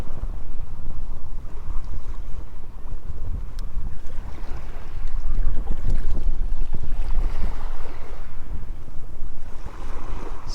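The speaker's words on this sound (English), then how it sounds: "It's definitely a little bit windy." Steady wind gusting across open water while fishing from a boat, a loud, continuous broadband roar with rumble and buffeting throughout, no voices.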